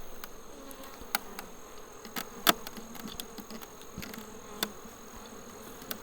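Honey bees buzz close around a steel queen isolation cage on a polystyrene hive, a continuous soft droning hum broken by several sharp clicks and taps.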